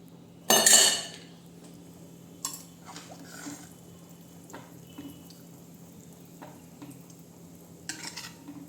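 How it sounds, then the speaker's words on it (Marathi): Cooked whole masoor lentils tipped into a pan in a home kitchen: a loud clatter and splash near the start, then quieter scattered clinks of a utensil against the pan, with no talk. "आता आपण त्याच्यामध्ये हे शिजवलेले मसूर टाकूया."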